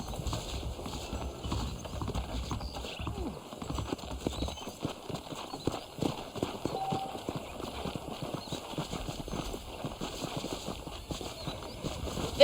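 Horse hooves clip-clopping at a steady walking rhythm in Red Dead Redemption, the even beat continuing throughout over a soft, constant game ambience, moderately close.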